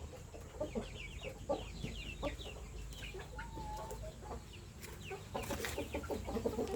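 Young Burmese chickens in a pen give off soft, scattered clucks and chirps against a steady outdoor background, with no voices over them.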